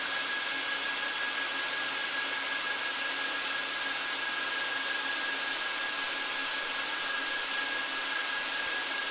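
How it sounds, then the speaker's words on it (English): A powerful cleaning vacuum roars steadily as it pulls dirt down through a Persian wool rug, a constant loud whooshing drone with a thin high whine running through it, unbroken and with no talking. "After the vacuum pull everything through the rug, everything fall down to the pan"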